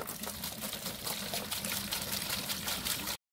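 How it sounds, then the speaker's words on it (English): Acetone pours from a container into a bucket to make a dry-ice cooling bath, a close, steady splashing gush that runs for about three seconds and then stops abruptly. "Pour your acetone in there."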